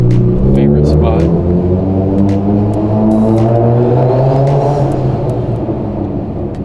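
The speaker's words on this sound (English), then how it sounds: "Cannot get enough of that big turbo sound." Engine of a heavily modified Hyundai Elantra Sport with a big turbo, making about 411 wheel horsepower, under load from inside the car: a loud, steady deep drone with rising harmonics, close and continuous.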